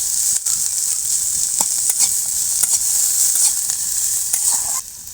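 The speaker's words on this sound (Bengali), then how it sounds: "এই যে পেঁয়াজ রসুন আর ঝালগুলো হালকা ভাজা হয়ে গেছে" Onion, garlic and chillies frying lightly in a pan, a close, steady sizzle broken by several sharp stirring scrapes and clicks, with no talking.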